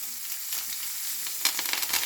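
Pearl onions, red chili and curry leaves frying in hot oil in a pan for medu vada sambar, a steady close sizzle with brighter crackling bursts toward the end, no talking.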